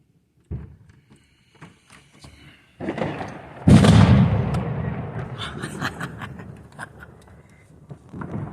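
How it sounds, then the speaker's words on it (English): New Year fireworks and firecrackers bursting across a residential neighborhood, a series of booming thuds and cracks, one heavy blast followed by a rolling rumble, mid-distance with scattered smaller pops. "I hear the fireworks go off."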